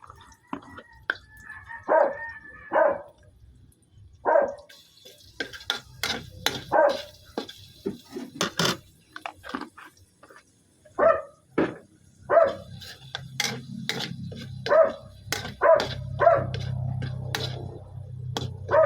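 A small pet dog barks repeatedly in sharp, scattered yips during home cooking, some barks loud and near, others softer, with low kitchen noise and occasional quiet talk.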